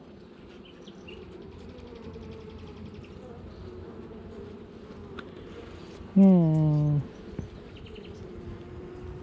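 Steady low honeybee buzzing fills the background, with a short, louder droning hum rising near the end, like bees close by on a hive frame.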